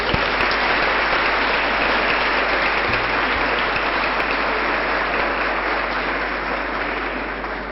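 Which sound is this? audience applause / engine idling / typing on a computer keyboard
audience applause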